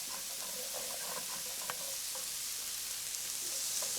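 Shallots fry in a pan with leftover meat juices, a soft, continuous sizzle and hiss at low volume, with light scraping from a utensil along the pan bottom.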